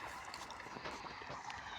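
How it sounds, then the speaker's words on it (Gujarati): Irrigation water runs through an open channel in a peanut field, a faint, steady rushing flow that continues evenly throughout with no clear breaks. "પાણી જાય છે."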